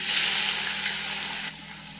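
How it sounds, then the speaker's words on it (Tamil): Onions hit hot oil with spices for Ambur biryani, a bright hissing sizzle that rises loud at once, then drops slightly and settles into a steady fry. "இப்போ வெங்காயத்தை ஆட் பண்ணிக்கலாம்."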